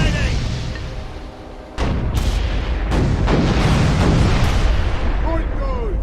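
A ship's cannons boom in Furious Seas, a naval video game: a sudden loud blast opens into a heavy rumbling roar of explosions that sustains for several seconds.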